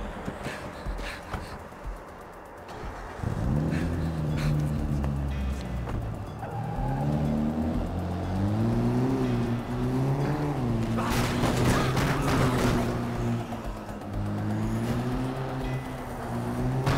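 In Dead Rising 3, a car engine revs and drives on with rising and falling pitch, loud and sustained, accompanied by scattered impacts and bursts of noise.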